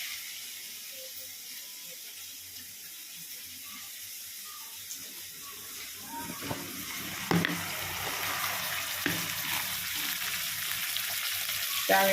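Vada curry masala is stir-fried with a ladle in a pan, producing a soft, steady sizzle with occasional scraping clicks that grow slightly louder toward the end, heard close and alone.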